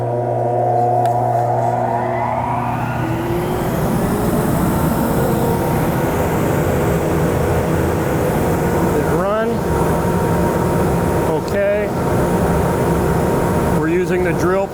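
A CNC router cuts a wooden cribbage board with a dust vacuum roaring alongside, giving a loud, steady machine hum with whining tonal layers and a few brief sweeping bursts.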